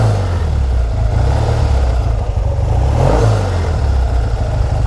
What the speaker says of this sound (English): 1959 Bonneville T120, first year they were made.